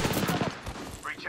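Rapid gunfire from the video game Apex Legends, a short burst of closely spaced shots, loud and near, with a player's voice talking over it.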